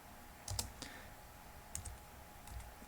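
Short bursts of clicking keys on a computer keyboard as a command is typed, three quiet clusters of keystrokes separated by pauses in a still room.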